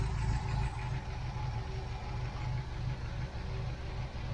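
A 1969 MGB's engine idling at about 750 RPM, a steady low rumble with an even pulsing beat, close and unbroken.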